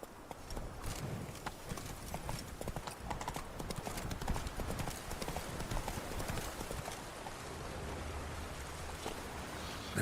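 Hooves of Roach, the horse in The Witcher 3: Wild Hunt, beat out a fast, steady galloping clip-clop that runs the whole stretch over a soft outdoor ambience.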